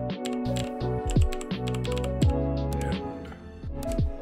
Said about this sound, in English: You can also practice your typing speed with an included app called Keypunch.